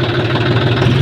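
A tractor engine runs steadily at close range, a continuous low, throbbing idle with a slight knocking rumble and no talk over it.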